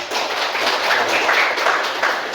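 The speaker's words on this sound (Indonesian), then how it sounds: "Ya, tepuk tangan ya." Schoolchildren in a classroom clap together, a loose, fairly loud patter of many hands that swells slightly and fades out after a couple of seconds.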